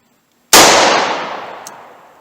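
A single loud, close gunshot from a .38 Special snub-nose revolver firing Buffalo Bore TAC-XP 110-grain full copper ammunition cracks sharply, then its echo decays over about two seconds.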